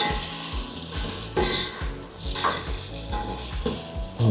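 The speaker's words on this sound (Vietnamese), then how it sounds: "Hầm cho nó chín xong rồi bỏ qua chiên lại." Beef that was marinated in lime juice and shallots and stewed, now fried again in a pan at a street food stall in a Kenyan slum, sizzling steadily with repeated scraping stirs and light clinks of utensils.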